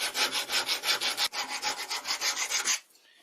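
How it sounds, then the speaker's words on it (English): Rust is scrubbed off a Chinese precision metal lathe with quick back-and-forth rubbing strokes, about a dozen rhythmic rasping passes up close before it stops. "I don't like this rust on my pristine Chinese precision machine, so I'm gonna clean up most of it."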